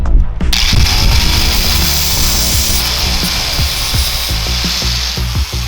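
A grinder works metal while shaping a pin for a car hood support in a drift garage, a steady loud whine with rough scraping bursts throughout.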